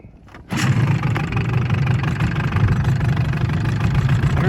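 A 1984 Evinrude 8 hp outboard motor starts abruptly and runs steadily at a close, loud, even idle-like drone with no talking.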